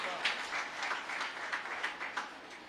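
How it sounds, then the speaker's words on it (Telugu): An audience claps loudly and steadily at a gathering addressed by an archbishop: dense, continuous applause with small surges, no voices rising above it. "గట్టిగా చప్పట్లు కొడదాం."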